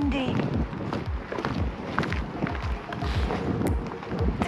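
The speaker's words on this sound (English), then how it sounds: "Why it's so windy?" Strong outdoor wind buffets the microphone in repeated low gusty thumps, loud and continuous throughout, with a person's voice briefly audible beneath.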